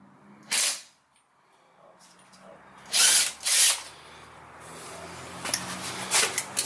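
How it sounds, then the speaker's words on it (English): Pneumatic impact gun working a rear suspension bolt on a 2013 two-door Jeep Wrangler JK during a spring install, with short loud rattling bursts near the start and again around the middle, then quieter mechanical noise toward the end. "Just hold the gun and keep it going. Keep the trigger on it. Let the hammer work."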